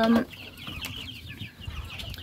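Soft clucking of chickens nearby, scattered short calls over quiet barn background noise.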